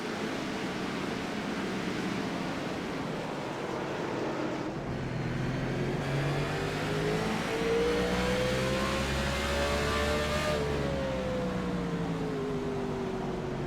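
Race cars roaring around a track, a continuous loud engine drone with a rising and falling pitch as cars pass close by, one car upset after catching a curb.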